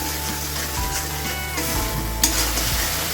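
Potatoes with salt and turmeric fry and get stirred in a pan, a steady close sizzle under repeated scraping and stirring strokes for a Bengali aloo dum, with no talk.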